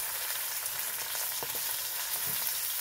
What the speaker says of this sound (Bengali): তেল দিয়ে কালো জিরে ফোড়ন দিয়ে টমেটো আর কাঁচা লঙ্কা কুচিগুলো দিয়ে দিলাম।